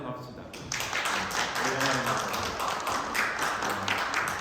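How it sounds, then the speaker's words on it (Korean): A church congregation at Sunday worship bursts into applause, a dense, steady patter of many hands clapping that starts about half a second in and continues to the end. "박수로 환영합시다."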